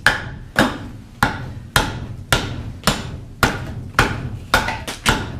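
Axe strikes chopping into a wooden bowl being carved, about ten sharp, loud, evenly spaced thwacks, each ringing briefly with a woody tone.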